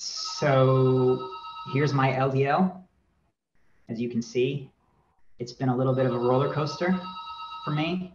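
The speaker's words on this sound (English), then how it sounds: "sorry for the phone in the background" A house phone rings somewhere in the room behind a person speaking, its bright electronic trill sounding in repeated bursts that run under and between the talk.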